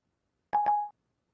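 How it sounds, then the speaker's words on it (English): A pair of quick telephone keypad dialing tones rings out in rapid succession, clear and close, triggered by voice-controlled dialing on a phone, then stops abruptly into silence. "I can also dial a phone number like this."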